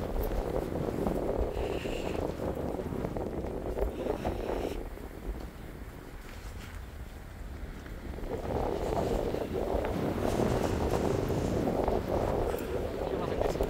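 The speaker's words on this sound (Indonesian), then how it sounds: "Angin ya, Mas? Angin." Wind gusting on the Mount Merbabu hiking trail, a rough roaring rumble across the microphone that swells, eases briefly midway, then rises again, with people talking faintly in the background.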